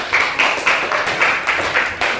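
Whole classroom of students clapping hands together in a brief, rhythmic burst, a regular pattern of sharp claps repeating about twice per second, close and fairly loud with no talking over it.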